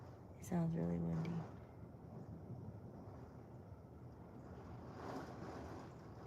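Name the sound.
wind blowing outside during storm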